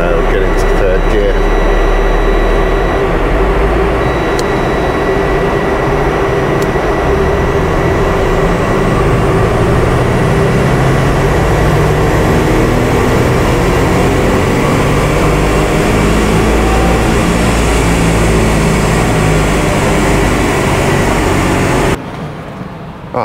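The turbocharged engine of a Subaru Forester XT SH5 drones loud and steady as it accelerates under boost, a continuous heavy roar with whine from inside the car that cuts off abruptly near the end.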